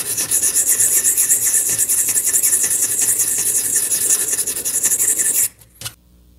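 A knife blade rasps rapidly back and forth on a pocket sharpener, a close, bright scraping that repeats in quick strokes for over five seconds, then stops, followed by a single faint scrape.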